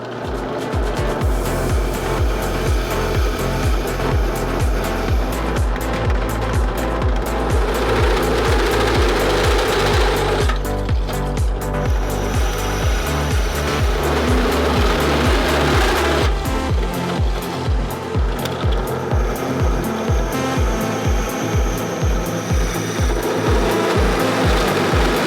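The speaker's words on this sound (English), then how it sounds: "I can now start drilling the brackets that are going to mount the live axle" Drill boring into wooden brackets for a go kart live axle, a continuous loud grinding whir with shifting pitch that runs steadily throughout, changing tone partway through.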